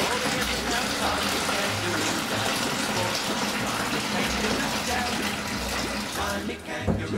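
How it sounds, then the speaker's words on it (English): Two litres of water pour into a beer fermentation vessel during homebrewing, a steady close gushing splash lasting several seconds and tapering at the end. "So this is 2 litres of water. That goes into the fermentation vessel."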